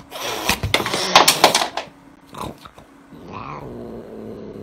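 A cat growls and yowls close by in an agitated burst, dense and loud at first, then fading into quieter, drawn-out grumbling with a few thumps and shuffles.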